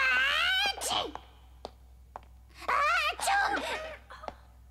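A voice lets out a drawn-out, squealing sneeze-like cry, then another wavering high-pitched outburst after a brief pause, with soft clicks between.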